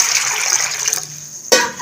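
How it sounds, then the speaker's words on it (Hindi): Water pours from a stovetop pan being filled for cooking, a steady gushing rush that cuts off briefly and then resumes with a splash near the end. "एक पैन को चूल्हे के ऊपर रख देंगे और इसके अंदर पानी ऐड कर देंगे।"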